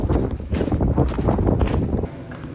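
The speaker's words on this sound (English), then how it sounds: "I don't know if you could hear the wind, it's just a blizzard out there." Strong wind roars and buffets the microphone during a mountain blizzard high in the Sierra Nevada near Pico de Veleta, a continuous loud rushing gust that eases slightly toward the end.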